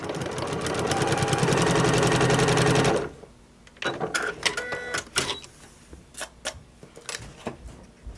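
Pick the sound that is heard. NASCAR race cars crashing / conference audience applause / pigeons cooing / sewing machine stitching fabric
sewing machine stitching fabric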